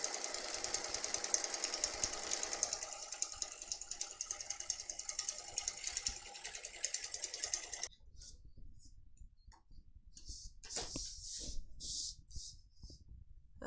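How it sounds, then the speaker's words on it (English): Sewing machine fitted with a Teflon foot stitching binding along the edge of a messenger bag: a steady, dense mechanical rattle for about eight seconds, then stopping, followed by scattered clicks and handling noises. "then I sew down all at once all the way across the edge"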